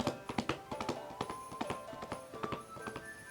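Cupped hands patting rhythmically on the body in a tai chi exercise make soft, hollow clip-clop taps like horse hooves, quick and evenly paced, close by and fairly quiet.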